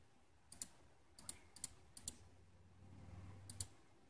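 Computer mouse clicks while stepping through an installer on a PC, a handful of crisp, faint single and double clicks spaced irregularly over a low background hum, with no talking.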